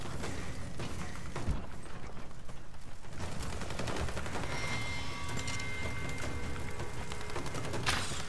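Rise of the Tomb Raider gunfire, scattered sharp shots and bursts over a busy mechanical background, moderately loud and continuous.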